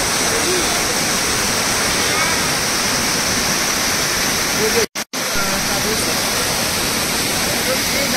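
Kanchenjunga Waterfall in Sikkim roars as a loud, constant wash of rushing water close by, broken only by a brief cutout near the middle, with voices faintly under it.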